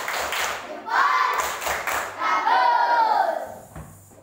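A class of elementary schoolchildren performs the 'tepuk jempol' clapping routine, mixing rhythmic hand claps with chanted voices in a classroom. The chant and claps come in short, lively phrases.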